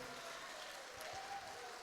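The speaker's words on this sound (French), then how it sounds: "Est-ce que je peux avoir une acclamation là-dessus?" A church congregation applauding and cheering during a sermon. The wash of sound is steady and faint, as if from across a large hall.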